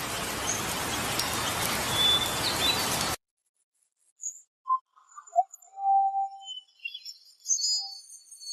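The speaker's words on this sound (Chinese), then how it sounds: "下雨了" Rain falls in a steady, close hiss for about three seconds, then stops abruptly. Faint, scattered chirps and squeaks follow in the quiet.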